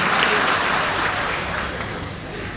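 An audience claps at a college principal's talk: a dense, steady burst of applause from a crowd that stays loud throughout and eases slightly toward the end.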